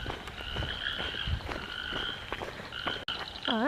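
Frogs near a swamp beside a bush walking track croak in a close, steady chorus of repeated rasping calls, with a warbling trill near the end.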